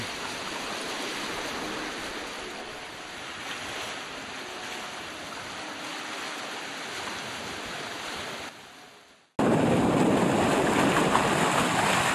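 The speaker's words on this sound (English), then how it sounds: "sailing my old Searunner Trimaran Scrimshaw. This is the best that sailing gets. A dead run, wing and wing." Steady rushing of water and wind around a Searunner trimaran running dead downwind, wing and wing, on open water, a continuous hiss that drops out briefly near the end and then returns louder.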